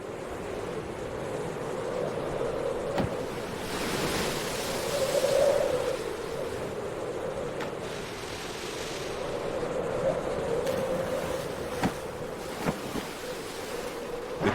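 Stormy ocean surf roars continuously, with wind gusting over rolling swells that rise and fall in loudness and no voices present.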